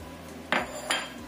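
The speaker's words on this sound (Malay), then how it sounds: "Kita ulek sampai halus ya." A mortar and pestle grinding shallot with salt gives two sharp, close knocks of stone against stone about half a second apart over a quiet background, with no talk.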